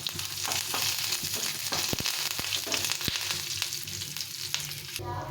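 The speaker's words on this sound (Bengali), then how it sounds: "ডালগুলো একটু ভাজা ভাজা করে নিই। দিয়ে দেবো 2টো শুকনো লঙ্কা আর কিছুটা কারি পাতা।" Dry chana dal fries in hot oil with two dried red chilies and curry leaves, giving a steady crackling sizzle throughout, broken by scattered pops and light stirring clicks.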